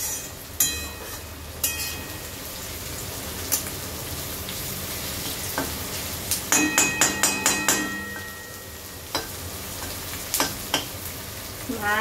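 Onions frying in a pan, with a steady loud sizzle throughout and sharp clinks and scrapes of stirring scattered across it, in a bursty run near the middle.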